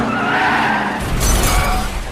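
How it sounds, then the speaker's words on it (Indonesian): A car in a film skids as it sideswipes a rider, a loud rasping tire skid followed by a sudden harsh crash-like burst with shattering noise, no speech. "Hingga akhirnya dia menyerempet pengendara tersebut."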